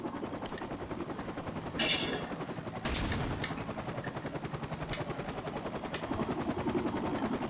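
Bursts of automatic gunfire rattle in Call of Duty: Modern Warfare Remastered, rapid repeated shots over a continuous helicopter rotor thrum, growing denser toward the end, with a couple of sharper blasts along the way.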